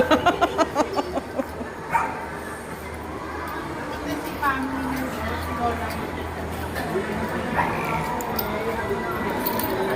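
A dog barks in a quick series of sharp yaps, then more scattered barks and yips follow beneath people chattering nearby.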